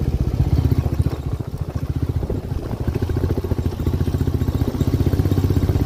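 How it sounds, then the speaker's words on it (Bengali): A motorcycle rides along a mountain road in the Darma valley, its engine thrumming steadily and loud, close up throughout with rhythmic low pulses. "ভালো লাগছে এই জায়গাটায় বাইক চালাতে।"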